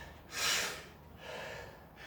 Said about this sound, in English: Get the air in, keep deep breathing.